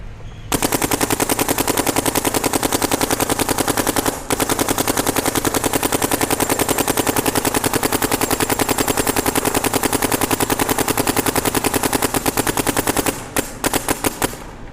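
A Planet Eclipse GTEK 160R paintball marker fires a long, rapid, unbroken stream of brittle paintballs at about 1800 psi, loud and close, with one brief pause and a few final spaced shots.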